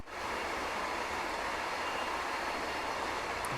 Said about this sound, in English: This is serene, genteel train driving through the countryside